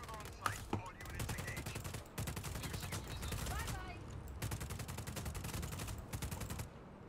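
Gunfire in Just Cause 4: rapid automatic bursts crackle in several long, loud runs with short pauses between them, with faint background noises mixed in.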